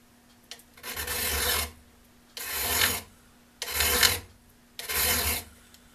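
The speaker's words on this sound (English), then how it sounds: "So I'm going to take this little diamond file. And sharpen it like that." A small diamond file sharpens a carbide saw blade tooth by hand in four even, close rasping strokes, each about a second long with short pauses between.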